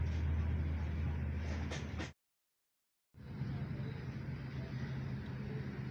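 A Suzuki Mehran engine runs with the throttle held slightly open while carburetor cleaner is sprayed in, giving a close, steady engine rumble that cuts out briefly and then resumes.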